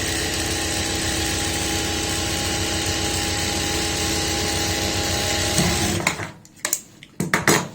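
A sewing machine runs steadily, stitching the side seams of an apple-cut kurti, a continuous mechanical whir that stops near the end, leaving a few short clicks and handling noises.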